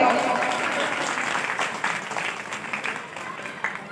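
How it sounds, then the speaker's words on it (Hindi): A crowd at a Shri Ram Katha religious gathering in Delhi applauds steadily for a few seconds, the clapping dense and moderately loud before tapering slightly. "सही कह रहा हूं ना? तो बजाओ तालियां।"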